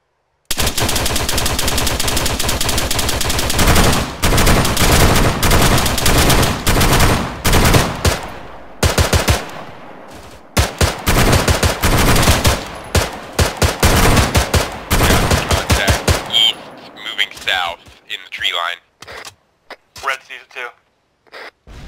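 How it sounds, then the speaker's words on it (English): Heavy .50 caliber machine guns rattle out long, loud bursts in an Arma 3 airfield defense battle, dense at first, then breaking into shorter volleys and scattered shots before fading, with voices talking over the gunfire. "put those 50 cals to work"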